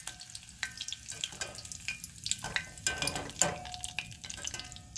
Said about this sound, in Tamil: இப்போது மேலே போடுறதுக்கு கருவேப்பிலை போட்டு ஃப்ரை பண்ணிடலாம்